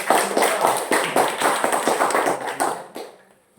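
A classroom of students claps hands together in a dense, sustained burst of applause that fades out near the end.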